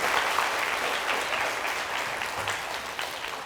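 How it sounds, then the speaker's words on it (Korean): A lecture audience applauds in a dense, steady wash of clapping that holds evenly for several seconds, fairly close and without speech over it. "이쯤에서 박수를 한번 치시면 되는 거거든요."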